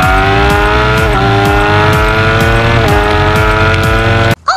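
A Kawasaki ZX-10 sport motorcycle's engine screams loudly as it accelerates hard through several quick upshifts, its rising whine dipping at each change, before wind buffeting cuts in at the end.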